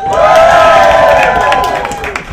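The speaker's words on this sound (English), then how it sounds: "let's try it one more time, whooping, cheering, foot stamping!" A comedy-club audience roars together in loud, sustained cheering and whooping for a couple of seconds, a dense crowd sound that holds steady and tapers slightly at the end.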